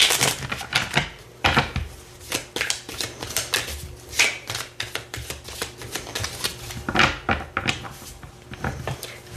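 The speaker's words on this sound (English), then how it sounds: "we're going to get these shuffled up and see what is going on for you, Pisces" Tarot cards being shuffled by hand for a Pisces love reading, a busy run of crisp riffling and slapping card bursts with brief pauses, close and fairly loud, with no talking.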